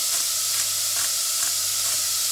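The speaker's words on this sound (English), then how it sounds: "then just keep frying off the meat" Steady sizzling of minced meat frying in a hot pan, a continuous close hiss with faint scraping stirs every half second or so.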